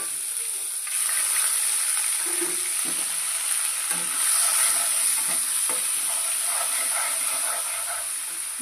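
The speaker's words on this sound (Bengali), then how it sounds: "এখন আমি দিয়ে দিচ্ছি আদা আর কাঁচা লঙ্কার যে পেস্টটা আমি করে রেখেছিলাম সেটা দিয়ে দিচ্ছি।" Ginger and green chilli paste dropped into hot oil with whole garam masala, a loud steady hiss and sizzle with occasional stirring clinks in the pan, no voices.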